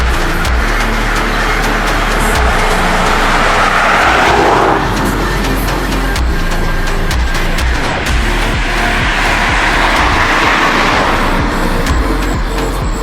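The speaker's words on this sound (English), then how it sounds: "Let me wait for these cars to rock past" Several cars rushing past nearby on an outdoor street during a walk, a loud continuous roar of traffic with swelling passes around four and ten seconds, no talking.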